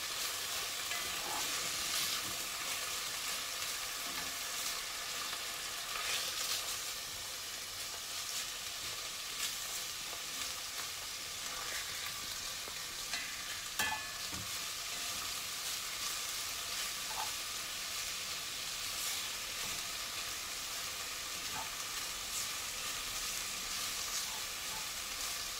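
Onions sauté in a frying pan, a steady sizzle and hiss lasting throughout, with occasional light clicks and stirring touches.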